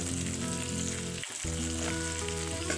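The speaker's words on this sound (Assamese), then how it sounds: "পিঁয়াজৰ লগতে ফ্ৰাই হ'ব।" Ginger-garlic paste and cinnamon fry with onions in a hot pan, giving a loud, steady, close sizzle that dips briefly before carrying on.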